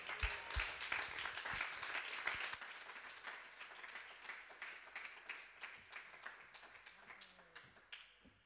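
Church congregation applauding as their pastor is called up: dense clapping for about two and a half seconds, then thinner, scattered claps tapering off over the remaining seconds.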